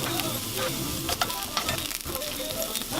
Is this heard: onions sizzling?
yes